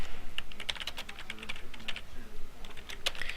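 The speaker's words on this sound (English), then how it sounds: "Type your main title again." Rapid clicking of keys as someone types a title on a computer keyboard, a steady close run of light taps with no speech.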